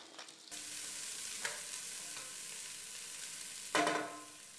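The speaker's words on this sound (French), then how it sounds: "Je fais caraméliser mes oignons." Steady sizzling of onions caramelizing in olive oil in a hot pan, with a couple of brief clinks or stirring scrapes, no talking.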